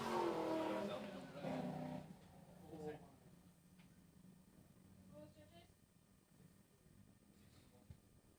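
A Nissan 350Z race car on a circuit during qualifying, its engine roaring loudly at first and then fading into the distance, with other car sounds further off.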